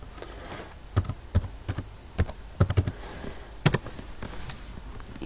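Fingers tapping out a search on a computer keyboard, irregular bursts of crisp close keystrokes with short pauses and no talk.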